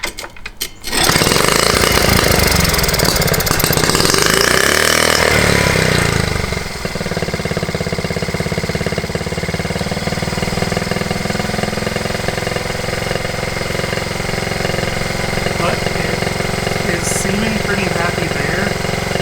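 A Honda T50 motorcycle engine idles steadily after a loud burst of air-compressor noise at the start, the compressor drone and a continuous engine hum running together near and loud throughout.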